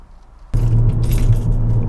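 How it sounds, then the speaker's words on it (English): Car keys for a Mountune-upgraded Ford Fiesta ST-2 jangle loudly and close after a quiet start, a bright metallic rattle continuing for over a second. "Let's get rid of these bloody keys, gonna do my head in."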